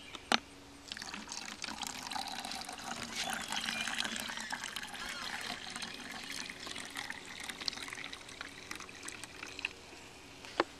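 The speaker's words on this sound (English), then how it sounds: "And then you fill it up about 3/4 the way with water." Water runs steadily into a bottle, filling it about three quarters full for a homemade baking-soda fire extinguisher; a soft, continuous trickle and gurgle, faint and close, with no voices.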